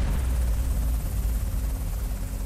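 An SH-60 Seahawk helicopter produces a steady, heavy rotor thrum with a deep low rumble, continuous and fairly loud throughout.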